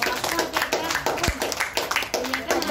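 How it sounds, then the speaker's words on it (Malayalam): Wedding guests at a Kerala reception clap to welcome the couple's parents onto the stage, a sustained ripple of moderate applause running under an anchor's amplified announcement. "നമുക്ക് എല്ലാവർക്കും ഒന്ന് കൈയടിച്ചാൽ വേദിയിലേക്ക് സ്വാഗതം ചെയ്യാം"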